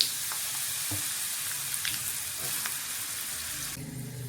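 Fenugreek seeds and chopped raw mango tossed into hot oil for a mango chutney, giving a steady close sizzle with a few sharp crackles and stirring clinks, and a louder burst of frying near the end.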